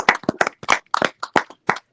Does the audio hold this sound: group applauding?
yes